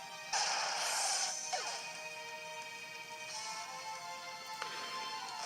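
Flare Blitz attack in Pokemon X and Y, a loud crashing impact followed by whooshing and ringing tonal effects, with a second smaller hit and chime near the end.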